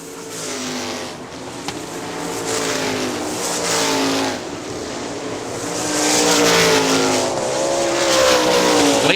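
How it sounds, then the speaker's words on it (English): Several 410 sprint cars roar past on an oval track at Hartford Speedway Park, Michigan, in a continuous, loud engine drone that swells and fades as they circle, with no talking. "Red Jones about to be lapped on the back straightaway in car number 98"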